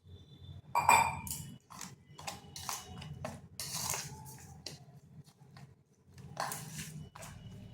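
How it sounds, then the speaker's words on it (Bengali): A spoon knocks and clinks against a bowl while sour yogurt and semolina batter is mixed with water, giving irregular scraping taps at close range. "টক দই আর সুজি ভালোভাবে মিশিয়ে নিচ্ছি। এরপর এখানে দিচ্ছি জল।"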